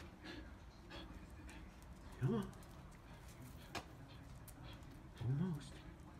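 A brown dog pants steadily after a run, its quick breaths continuing throughout, with two brief high whimpers and a person speaking briefly nearby.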